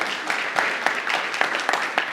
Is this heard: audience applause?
yes